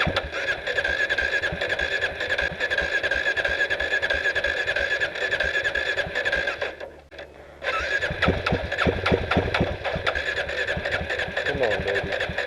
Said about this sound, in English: I've been cranking now for a while and it's no starting